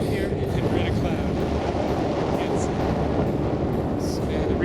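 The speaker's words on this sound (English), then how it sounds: "It's windy and snowy up here, and we're in a cloud." Wind roaring over a snowy mountain top in Iceland inside a cloud, a loud, constant buffeting rush pressing against the microphone, with faint voice-like traces beneath it.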